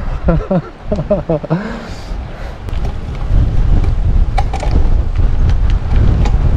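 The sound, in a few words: wind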